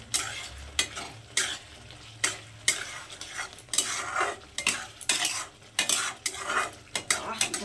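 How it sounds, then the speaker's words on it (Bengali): A spoon scrapes and stirs spices repeatedly through a thick hog plum pickle in a pan, with rhythmic metallic clinks and a soft sizzle underneath. "মশলাটাকে একটু ভালো করে মিশিয়ে নেবো"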